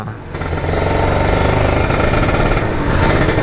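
A 2010 Kawasaki Ninja RR150 two-stroke motorcycle engine idles loudly and close by, with a steady rapid putter and a rough rattling tone throughout.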